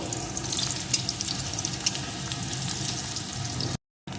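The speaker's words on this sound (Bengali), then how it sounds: "পেঁয়াজ কুচিটাও একটু ভেজে নেব" Chopped onion fries in a pan with chilli, giving a continuous close hiss of sizzling oil that breaks off for a moment near the end.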